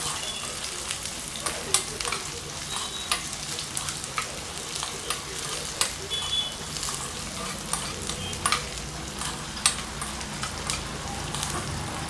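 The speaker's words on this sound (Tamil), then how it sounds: "ஒரு லைட்டாக நான் லைட் ஃப்ரை பண்ணுறேன்" Small shallots lightly frying in oil in a pan for paniyaram, a steady soft sizzle with frequent stirring scrapes and clicks, moderately close and continuous throughout.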